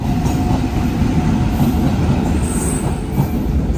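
The Duronto Express from Hazrat Nizamuddin to Secunderabad rushes past on the adjacent track, a loud, continuous roar of wheels and rattling carriages with faint high squeals, close and unbroken.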